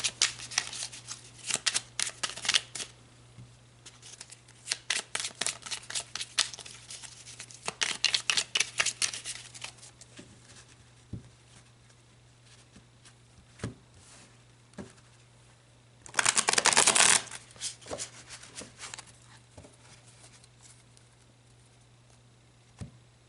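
Tarot cards shuffled by hand in quick riffling bursts, close and crisp, with a longer dense run near the start, a pause with scattered taps, then another sharp burst later, no talk.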